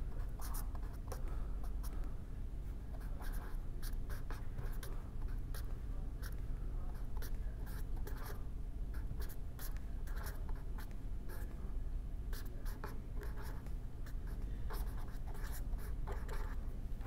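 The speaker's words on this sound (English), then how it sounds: "So, I am going to write the final energy equation for an open system." A pen or marker writing out the energy equation for an open system on a board or paper, making a continuous soft scratching with quick strokes and taps, steady and close for the whole stretch without speech.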